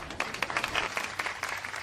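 Audience applause breaks out after remarks about Ganesh as an early case of plastic surgery: a steady patter of many hands clapping at moderate distance for about two seconds, with no speech over it.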